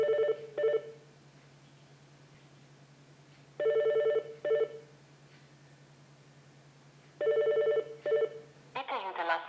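Repeated telephone ringback tones sound in three evenly spaced double bursts over a steady low hum, a call ringing unanswered before voicemail picks up, ending with a short electronic signal.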